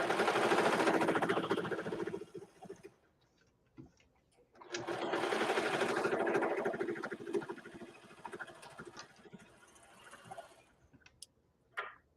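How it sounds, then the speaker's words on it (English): A sewing machine stitches a seam on children's sweatpants in two close, steady whirring runs separated by quiet pauses with light clicks and handling sounds. "so I think just sewing this seam"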